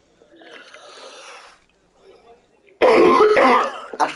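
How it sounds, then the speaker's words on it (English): A man coughs and clears his throat harshly in a loud, close burst near the end, after a stretch of quieter rough breathing or muffled sounds. "See, he's coughing."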